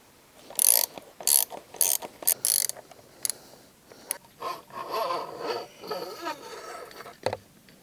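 A ratchet fitted with a 10mm socket backs out the front fork screws on a Honda CRF300L motorcycle. It gives several sharp, close clicking bursts in quick succession, then softer, rattling mechanical handling and a final click.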